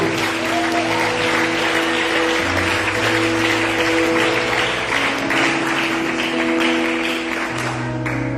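A church congregation at a worship service applauds steadily and loudly throughout, the clapping blended with sustained instrumental music tones underneath.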